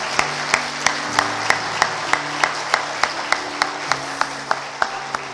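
A church congregation claps to send off a departing pastor and his wife, the claps landing in a steady, evenly spaced rhythm for several seconds against a low background murmur.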